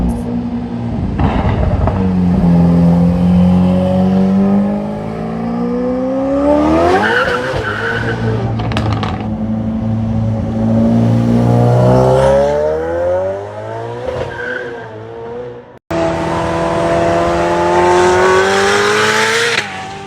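Modified Ferrari F8 Tributo and 488 Pista supercars driven hard, with loud, sustained tire squeals and skidding over high engine revs that rise and fall, close by and continuous with no talking.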